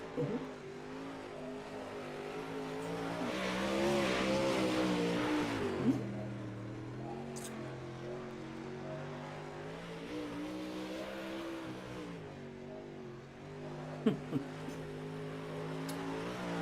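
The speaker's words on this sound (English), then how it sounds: "10 to go as Nick Miller's going to run some laps, and I'll let you go ahead and hear on in." Late model race cars lap in the iRacing simulation, with a sustained engine drone that rises and falls through shifting harmonic tones and faint tire noise, moderately quiet with no voices.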